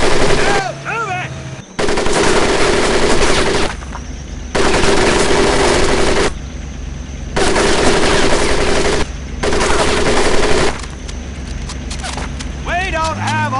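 Sustained machine-gun fire during a military training drill, loud and close, in long dense bursts broken by short gaps, with shouted voices in between.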